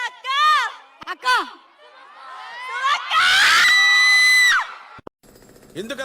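A crowd at a film launch event shouts, whoops and screams in loud, excited bursts, with a long, sustained roar of cheering in the middle before it cuts off and lower chatter returns.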